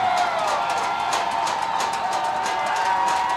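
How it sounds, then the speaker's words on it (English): Loud, sustained crowd roar in the stands at a high school football game between Hersey and Conant, a dense, steady wash of cheering with bursts of whoops building throughout. "Crowd's starting to get loud."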